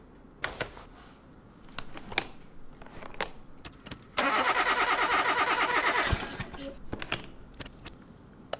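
Car engine cranking over steadily for about two seconds during a compression test on a rough-running engine in Car Mechanic Simulator 2021, a loud, even rapid chugging set among scattered clicks and tool clatter.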